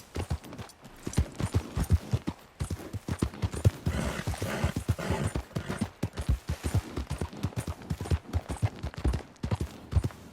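Horse hooves gallop in the video game Red Dead Redemption 2, a fast, steady, close rhythmic pounding that lasts throughout.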